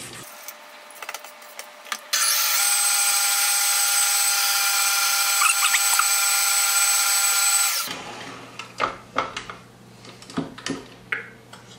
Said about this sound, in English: going to whip it up some, we're going to watch it until the color changes